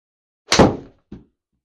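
A 7 iron golf shot struck from the rough on a slightly uphill approach at TPC Scottsdale, heard as a single sharp, close thwack followed by a fainter second knock.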